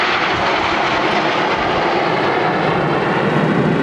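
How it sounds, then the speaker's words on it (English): Red Arrows jet aircraft flying a display at an airshow, a loud, continuous roaring rush of jet engines that holds steady throughout. "Red 3 is Flight Lieutenant Sean Cunningham, making a nice job of the diamond chicane."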